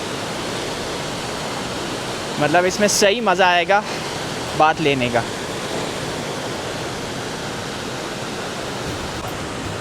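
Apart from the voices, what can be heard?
hot spring water flowing down at Leukerbad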